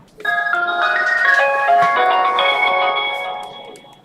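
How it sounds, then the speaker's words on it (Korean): A phone call being placed during a live broadcast produces a melodic electronic ringback tune, a loud chiming sequence of tones lasting about four seconds before it fades out. "전화 연결해가지고 한번 물어보겠습니다"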